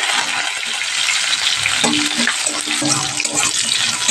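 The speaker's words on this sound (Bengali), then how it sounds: "দিয়ে দিলাম পেঁয়াজ, স্লাইস করা পেঁয়াজে" Sliced onions fry in a hot pan over a nigella seed tempering for masoor dal, giving a loud, steady, close sizzle and crackle throughout with no talking.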